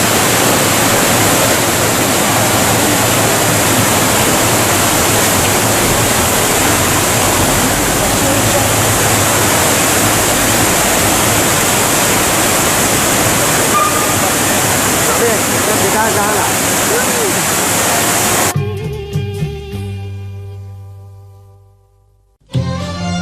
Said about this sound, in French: Avant d'aller observer et admirer une imposante cascade.